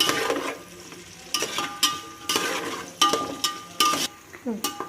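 Onions and green chillies frying in a pan, stirred with a utensil that scrapes and clacks in irregular strokes over a soft background sizzle.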